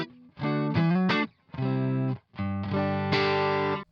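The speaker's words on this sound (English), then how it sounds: "The sound of the amp plugged into the Grossman ISO cab sounds like this." Fender Stratocaster electric guitar played through an amp into a Grossman ISO cab, a few distorted chords and riffs with a chorus-like shimmer, separated by short pauses and heard alone.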